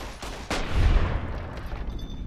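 A burst of gunfire in the video game Fallout New Vegas: a sharp loud shot followed by rapid rattling fire and a booming low rumble that trails off.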